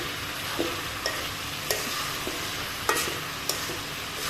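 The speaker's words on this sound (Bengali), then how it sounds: "এইভাবে ভালো করে ভেজে নেব।" Mixed vegetables fry dry over a high flame in a pan, with a steady close sizzle broken by several sharp scrapes and clinks as they are stirred, and no talking.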